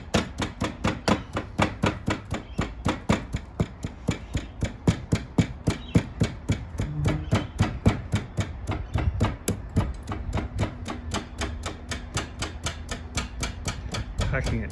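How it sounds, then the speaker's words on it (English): Sand is packed hard into a mold for casting a sea shell in aluminium, with rapid, regular thuds of tamping, about three or four per second, close and steady for nearly fifteen seconds. "Packing it down as hard as possible."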